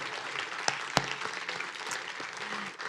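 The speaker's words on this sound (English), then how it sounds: "Let's give a round of applause to La Plaza and to John" An audience at an evening community awards celebration applauds, a dense, even wash of clapping with a couple of louder single claps near the start.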